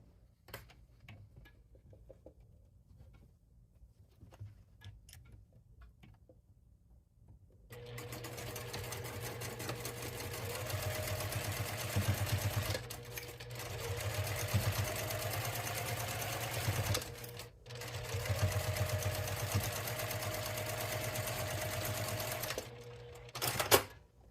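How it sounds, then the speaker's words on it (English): A sewing machine stitches a quarter-inch seam down a fabric tube, a steady close mechanical whir with rapid ticking that starts after a quiet stretch, pauses briefly and resumes. "we are going to sew 1/4 inch all the way down, leaving the sides open"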